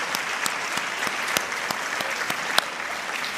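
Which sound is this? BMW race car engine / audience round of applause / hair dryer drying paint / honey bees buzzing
audience round of applause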